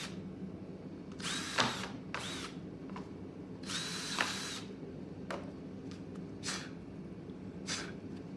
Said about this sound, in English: So now I can go ahead and drill the last of these holes.